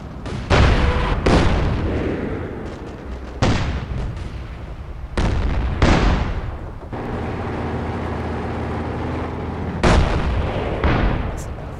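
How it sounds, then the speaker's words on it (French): Repeated heavy 122 mm cannon blasts in the video game Company of Heroes 2, about six booming shots at uneven intervals, each with a long rumbling decay, loud and close, no speech. "Et un 122 mm, un canon."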